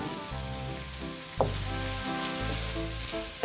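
Julienne-cut carrots and beans hit a hot pan for Filipino pancit bihon, giving a steady sizzle with a sharp crackle burst partway through over a low background hum, with no talk.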